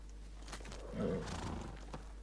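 A horse in the game Ghost of Tsushima gives a short, breathy neigh near the middle, fairly faint over a low background hum and soft hoof-like thumps.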